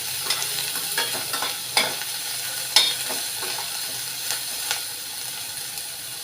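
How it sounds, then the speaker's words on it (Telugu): Chopped onions fry in a pan with a constant hiss while a spoon stirs and scrapes them, giving several sharp clacks and scuffs at uneven moments, close and clear. "ఉల్లిపాయ ముక్కలు తరిగి పెట్టి ఉంచుకున్నాం కదా, అవి వేసేసుకోవాలి. ఇవి బాగా వేయించుకోవాలి."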